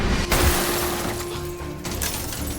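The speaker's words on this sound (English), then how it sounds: "He grabbed a shovel and smashed the neighbor's car window." A car window smashed with a shovel gives one sharp crash of shattering glass, followed by a lingering, fading clatter and a steady low hum, in a dramatic movie scene.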